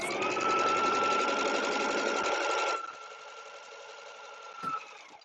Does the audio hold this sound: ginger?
no